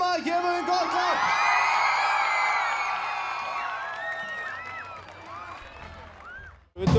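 A concert audience cheers and whoops for a band, a dense, loud swell of many voices that holds for several seconds, slowly thins out, then flares up again briefly at the end.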